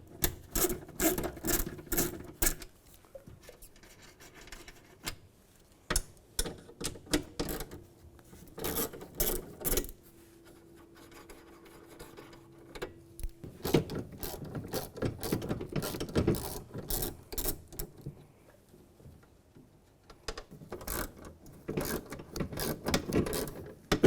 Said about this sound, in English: Now we're going to take the two nuts off down here, the bolt right here, and the bolt right there. Use a 10mm socket.